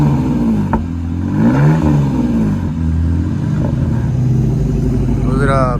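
A 2021 Dodge Durango V6, not a Hemi, fitted with Borla S-type mufflers, rumbles close by and revs up and back down in a couple of swells, a steady exhaust drone throughout.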